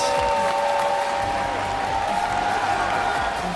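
A dense, steady crowd roar fills an arena during a League of Legends Mid-Season Invitational semifinal between SK Telecom T1 and Fnatic, loud and continuous with the audience on its feet and a faint hint of applause.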